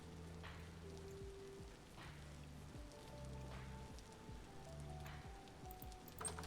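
Steady soft patter of rain in the Vintage Story video game, faint and continuous with quiet tonal music running underneath, no talking.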